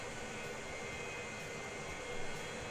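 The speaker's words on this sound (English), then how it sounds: "Okay, so we take off from a runway 18 left." Jet airliner taking off from a runway in the video game Transport Fever 2, a steady, broad engine roar held at a constant level throughout, swelling slightly near the end.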